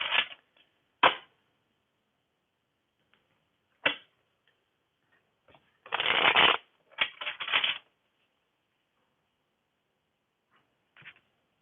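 Tarot cards are riffled and shuffled in several short bursts with pauses between, close and crisp, with no voices.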